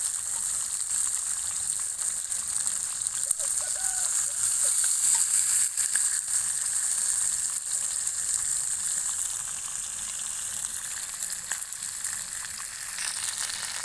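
River catfish fries in oil in a pan over a wood-fired stove, giving a steady, loud, continuous sizzle and crackle, with no talking.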